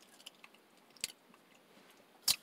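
Someone chews a Pop-Tart Crisp, a small pastry with filling. Soft, close mouth sounds carry two sharp crunchy bites, one early and one louder near the end, over quiet background.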